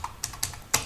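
Keys clacking on a computer keyboard at a desk, about five quick, crisp taps spaced unevenly across under a second, close and fairly loud with no talking.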